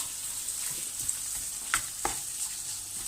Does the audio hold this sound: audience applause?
no